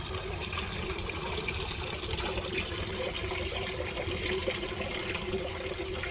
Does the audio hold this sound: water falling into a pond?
yes